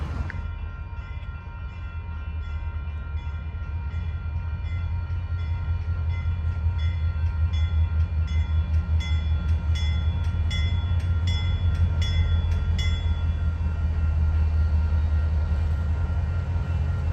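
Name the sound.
freight train of oil cars passing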